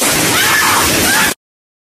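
Shower water running in a short, loud rush of splashing and sloshing water that cuts off abruptly after little more than a second.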